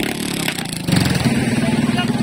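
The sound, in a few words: racing motorcycle engines starting and revving at a drag race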